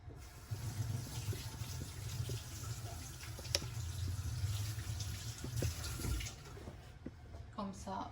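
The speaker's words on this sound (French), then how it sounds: "Je vais me laver les mains." A tap runs while hands are washed under the stream, a steady, faint splashing hiss with small drips and a brief clink partway through.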